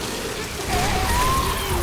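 Rain in the video game Left 4 Dead pours down loudly as a dense hiss, with a brief tonal whine rising partway through.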